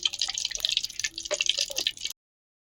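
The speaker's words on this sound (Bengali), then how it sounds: "কড়াইতে তেল দিয়ে দিচ্ছি" Cooking oil poured into a wok makes a run of bright, close dripping and splattering ticks for about two seconds before it stops abruptly into silence.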